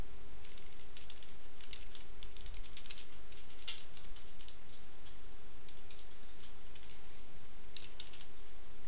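Continuous light clicking of fingers typing a message on a computer keyboard, a steady patter of quick keystrokes heard close up over a faint steady hum.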